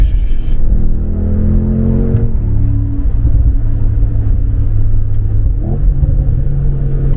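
A Mercedes G63 AMG V8 bi-turbo engine revs up and drops back several times, a deep, powerful, heavy rumbling growl close by and sustained throughout.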